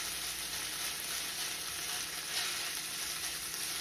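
Food sizzles and fries steadily in a single skillet, a dense continuous crackle with no talking over it.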